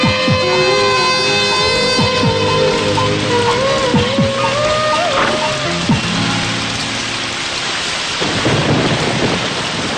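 Steady rain falls throughout, with a broad hiss, rumbling thunder and music underneath, in a dramatic film scene.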